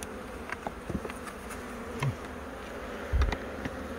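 Honeybees buzzing around an open beehive as the honeycomb frames are inspected, a steady quiet hum with brief louder thumps and bursts close by.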